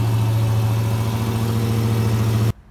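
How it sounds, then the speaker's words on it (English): A 2017 Dodge Charger SRT Hellcat, 707 horsepower, idles with a steady, deep low rumble, loud and close. The rumble runs unbroken with no talk, then cuts off abruptly near the end. "Just so you can hear what 707 horsepower sounds like. So you gotta love that rumble."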